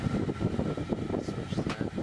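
Inside a camper van, the air conditioning blower runs with a steady, dense whooshing roar that fills the space close up, with no talking.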